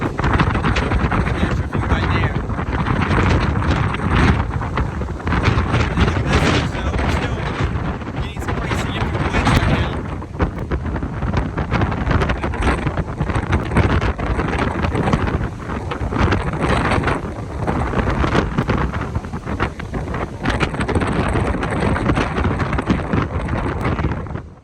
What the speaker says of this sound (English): We saw gusts of 72 and 68 miles per hour on top of Big Savage Mountain.